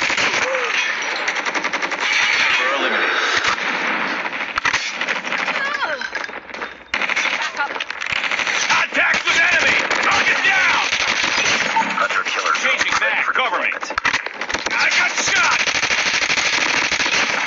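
Rapid automatic gunfire from a Call of Duty match runs almost without pause, loud, dense bursts stacking on each other with a brief gap near the middle.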